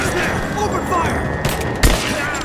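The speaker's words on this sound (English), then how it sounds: "Open fire!" Gunfire erupts in the video game Rise of the Tomb Raider as soldiers in a mine open fire, a dense rattling volley under talk, with one louder close shot near the end.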